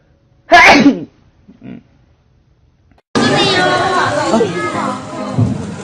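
A single sharp sneeze bursts out loudly near the start, followed by a brief quiet pause, then lively overlapping chatter from several voices fills the rest, with people talking throughout.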